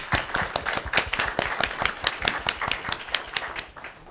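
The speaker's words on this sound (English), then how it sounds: "A little applause." After a talk, an audience gives modest applause: a steady run of distinct, closely spaced claps at moderate volume, slightly uneven in rhythm, with no voices over them.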